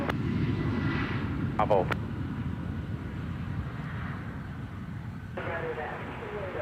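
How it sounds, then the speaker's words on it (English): A Southwest Boeing 737 MAX 8 jet departs, giving a steady, loud, broad engine roar that holds throughout while a brief radio voice cuts in over it. "we have another MAX 8 departure. This is for Southwest"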